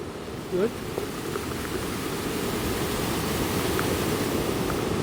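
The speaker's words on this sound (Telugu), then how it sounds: "ఆ కొండలపై నుంచి వాటర్ పడి అంతా రోడ్ల మీద వరకు వచ్చేస్తున్నాయి వాటర్." Monsoon rainwater pours off the hills near Naneghat, Maharashtra, onto the road, a steady broadband rushing roar with no pauses and a brief bump near the start.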